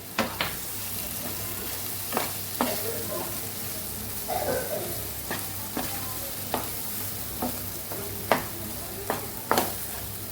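Raw mango and garlic chutney sautés over a low gas flame, a soft continuous sizzle broken by repeated sharp scrapes and taps of a spoon stirring against the pan.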